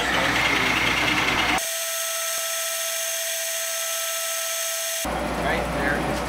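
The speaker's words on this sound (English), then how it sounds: "So let's touch off the first surface and start up the phase converter." A phase converter powering a South Bend lathe runs with a loud steady electric whine and hum, switching abruptly in tone midway before returning to a broader motor drone.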